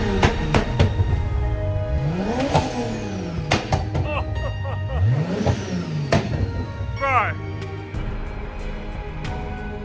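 Tuned Nissan Skyline R32 engine revving on a dyno, loud repeated rises and falls in pitch with sharp throttle blips, close and dominant, a brief whine near the end.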